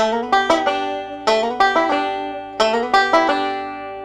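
Banjo phrase, played slowly and close: a slide into rolling forward picks and a pull-off, clusters of bright plucked notes repeating in three bursts.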